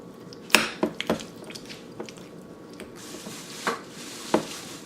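Garlic cloves stirred into red bean curd in a bowl, heard as a few sharp, quiet clicks and soft squishy knocks at irregular intervals over a low, still background.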